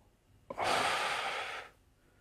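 A deep inhalation, one long steady breath drawn in for about a second after a brief catch, close and clear against near silence.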